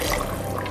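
A cup of water poured into a simmering stew of honey-garlic sausage, sweet pepper, onion and potato, a brief steady close-up splashing rush.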